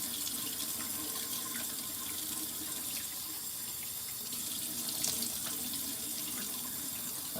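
Steady running water from a bathroom tap into a sink while a face is rinsed, a continuous close hiss and splash with no talking.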